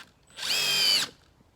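A Milwaukee impact driver drives a screw in one short burst, a loud, steady high whine lasting under a second in an otherwise quiet space.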